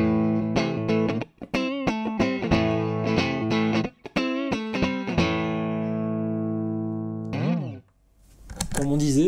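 Clean Telecaster electric guitar played through a Savage overdrive pedal with its gain at zero, giving rhythmic strummed chords with distinct pauses, a long ringing sustain, then a few final strums, close and fairly loud.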